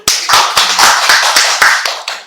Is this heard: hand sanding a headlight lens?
no